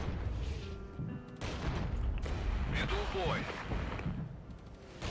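Mortar fire strikes units in a real-time strategy war game, with dull booms and rumbling impacts spread through the battle noise while someone talks over it.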